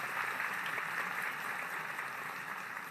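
An audience applauds, a steady dense wash of clapping hands held at an even level for the few seconds, with no voices over it.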